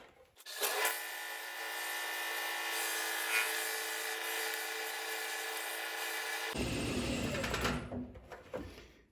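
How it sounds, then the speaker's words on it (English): Sycamore salad bowl hand-sanded with 120 grit sandpaper backed by a foam pad, a steady close rasping rub that runs for several seconds alone, then shifts to a rougher, lower scraping near the end. "I like these foam pads here. I put them on a piece of sandpaper and it doesn't burn my fingers. This is 120 grit."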